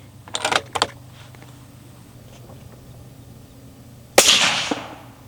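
A .280 Ackley rifle loaded with 145-grain Barnes LRX bullets fires one sharp, loud report late in the clip, with a short decaying tail. It follows a few earlier brief clicks and knocks and a quiet stretch of faint background hum.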